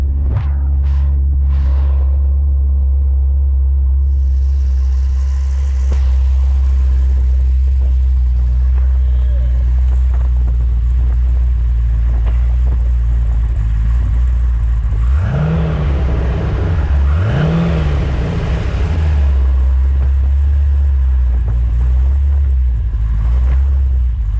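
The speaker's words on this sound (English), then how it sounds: "that is how a V8 Porsche should start" An LS3 V8 swapped into a Porsche 996 Carrera convertible idles loud and close with a deep steady rumble, then blips the throttle twice in quick revs before settling back to idle.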